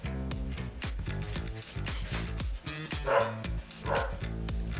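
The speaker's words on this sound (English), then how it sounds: "the dog's freaking out" A dog inside a house barks over and over at an uneven rhythm, each bark loud and near, with short yips and whimpers mixed in.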